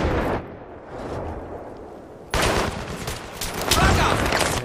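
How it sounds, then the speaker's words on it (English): Bursts of automatic gunfire in an online shooter match, loud and dense, cutting out briefly then resuming in rapid overlapping volleys with scattered heavier blasts, while players talk over the radio. "I'm shooting at him too"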